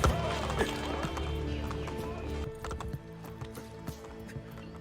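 Horse hooves clip-clop at a steady gallop in the video game Assassin's Creed Brotherhood, loud and continuous over a dense layer of game sound.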